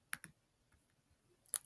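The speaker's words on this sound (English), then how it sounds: "So click on OK." Two quick mouse clicks close together, followed after a pause by a third sharp click, all quiet and close with near silence between, made on a computer while building a Scratch game about catching Olaf's frost.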